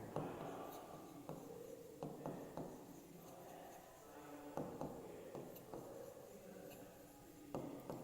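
A pen or pencil scratches across paper while multiplication facts are written out by hand in a class 3 maths lesson on division. Faint, quiet strokes and taps come in short bursts, with a soft room hiss between them.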